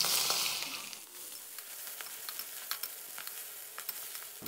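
Bean sprouts and mussels are stir-fried in oil for Thai hoi tod, with a brief hiss of sizzling at the start and then quiet crackle and scattered spatula clicks, close but faint.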